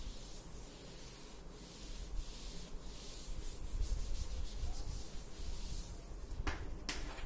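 Steady rubbing and scraping on a hard surface runs throughout at close range, with a couple of sharp clicks near the end.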